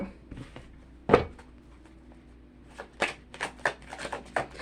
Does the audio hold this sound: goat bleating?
no